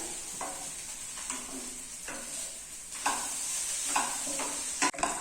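Instant noodles tossed with vegetables in a hot pan, stirred in repeated scraping strokes over a steady soft sizzle, close and moderately quiet, with no voices.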